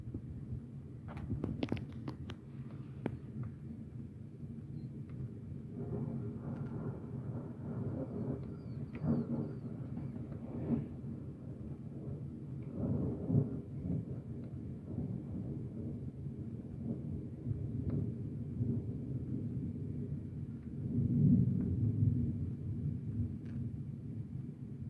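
Low rumbling thunder rolls through a severe thunderstorm with heavy rain, marble-sized hail and mild wind gusts, distant and muffled, swelling in long waves over a constant bed of rain.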